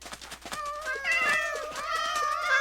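A cat in The Sims video game meows repeatedly in a cute, drawn-out, slightly wavering tone, clear and close with no voices over it.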